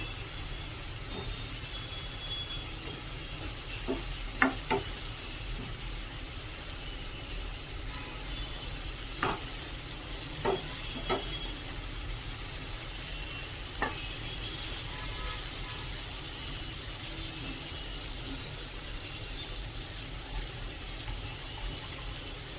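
Stuffed snake gourd sautés quietly in a pan, with a soft continuous sizzle and a few scattered light clicks of stirring over roughly twenty seconds and no talk.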